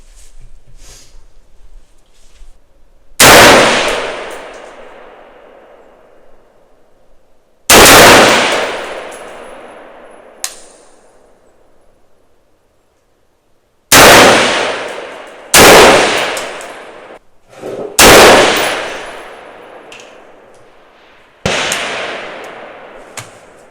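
An HK MR556 A4 rifle fires 77 grain match ammunition while being zeroed, six loud sharp single shots spaced a few seconds apart, each followed by a ringing outdoor decay, with no talking.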